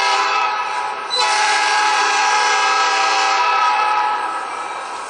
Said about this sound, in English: Every time a GTW engine rolls down the line